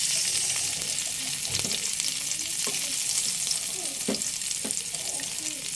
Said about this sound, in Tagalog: lagyan na natin ang ating sibuyas